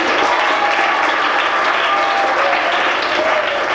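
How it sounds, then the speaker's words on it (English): A school audience claps together in a dense, sustained burst of applause that stays loud and even for several seconds. "Let's clap for Husna"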